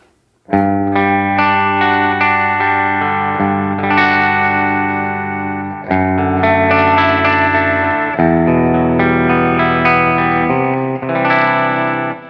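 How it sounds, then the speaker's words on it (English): An electric guitar made of glass plays sustained, overdriven chords on its bridge humbucker through a distorted amp, thick and loud with a few chord changes and no talking. "It's kind of pushing that amp from the clean channel into distortion."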